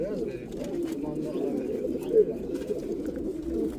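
Low, soft pigeon coos roll on steadily, several birds murmuring together at close range.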